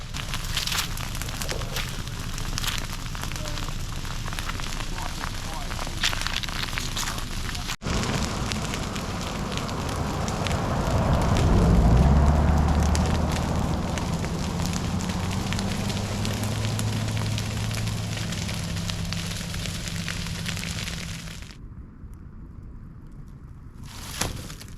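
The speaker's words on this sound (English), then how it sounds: "Just hear all this crackling, hey, at that campsite." Rangers' patch burning near a campsite in Litchfield National Park crackles and pops steadily for a long stretch, a dense hiss like rain with a low rumble swelling midway, then it cuts off.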